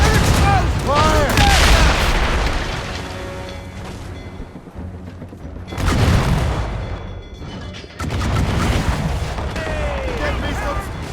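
Ship cannons in Assassin's Creed Rogue boom in heavy, rumbling volleys during a naval battle, loud and sustained with big surges, while voices shout underneath the broadside.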